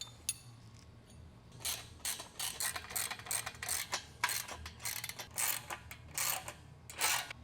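Repeated ratcheting clicks in short bursts as 70mm bolts are tightened during assembly of a Valor Fitness CB-12 lat pull down, seated crunch and upright row machine, fairly close and moderately loud with no talking.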